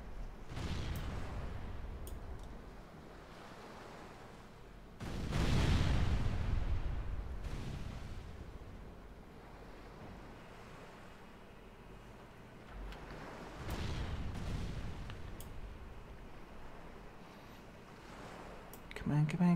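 Ship cannons firing in the naval video game Caribbean!, heard as three heavy booming volleys spaced several seconds apart over a quieter background of sea and ambience.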